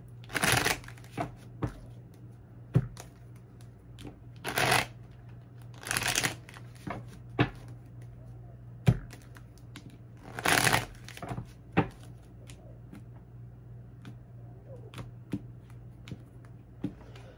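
Tarot cards being shuffled by hand in several bursts of riffling and flicking, with sharp crisp slaps between quieter gaps; faint background hum, no talking.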